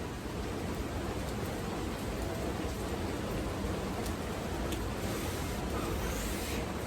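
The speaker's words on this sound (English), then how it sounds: "it is rainy, y'all, and man, it is coming down" Heavy rain pours down steadily in a public park, a dense and loud constant hiss with occasional sharper drips, and no voices.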